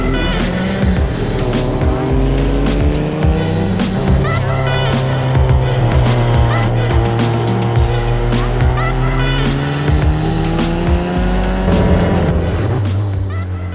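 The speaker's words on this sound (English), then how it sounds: "We just finished driving the F4 car" An F4 race car driving on a circuit, its engine droning steadily with pitch rising and falling through gear changes and corners, loud and close for the whole stretch, with faint tire squeal.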